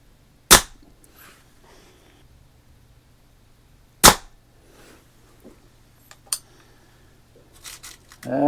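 Crosman 1400 pellet air rifle firing at a playing card target edge-on, giving two sharp, distinct shots a few seconds apart with faint ticks and a clatter afterward.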